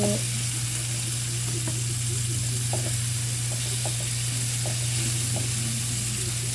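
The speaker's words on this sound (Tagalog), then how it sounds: "nilagay na po natin ang ating sibuyas. Halo-haloin lamang po ng bahagya hanggang sa ito ay maluto." Onions sauté in a hot pan for a pork rib vegetable stir fry, giving a constant dense sizzle with a low hum beneath and occasional light spoon taps as they are stirred.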